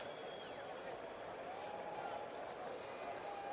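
Crowd applause and cheering at a Northampton Town versus Kettering Town FA Cup football match, a steady, moderately distant wash of clapping and voices after a goal, with a faint whistle early on.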